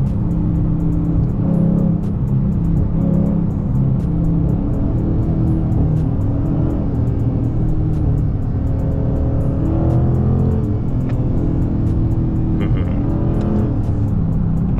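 A car engine revs loud and steady while the car is driven in manual mode, a continuous close roar with no one talking.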